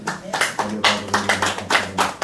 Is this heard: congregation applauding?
yes